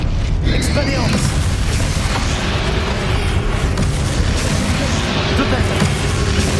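Booming magical blasts from the Expelliarmus spell cast during a battle in Hogwarts Legacy, a dense, loud, continuous roar of impacts and rumble with a voice faintly mixed in.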